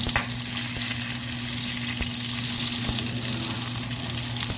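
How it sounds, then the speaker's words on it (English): Pan-seared crispy salmon being scraped loose from the bottom of a hot pan, a steady background sizzle with a few sharp spatula scrapes and clicks, no speech. "I'm going to kind of scrape the bottom off before I even take it out the pan"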